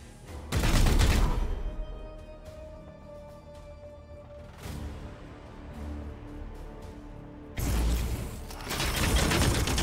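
Gunfire in the video game Warhammer 40,000: Chaos Gate, two loud bursts of shots separated by quieter mechanical clanks and creaks, with a final sustained volley near the end.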